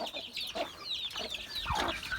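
Backyard hens cluck and squabble while being fed egg yolk, several birds calling close by in overlapping bursts over a steady background noise.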